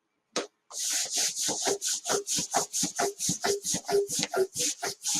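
A balloon rubbed repeatedly to build a static charge, giving a steady series of about twenty quick, even brushing strokes, close and fairly loud, with no talking.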